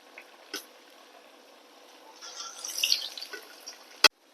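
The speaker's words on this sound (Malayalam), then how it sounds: "നമ്മൾ കൈ ഒന്നിങ്ങനെ വെള്ളത്തിൽ നനയ്ക്കുക." A hand is dipped and wetted in water while shaping jackfruit seed vada dough, giving soft splashing and trickling that builds midway, followed by a single sharp knock.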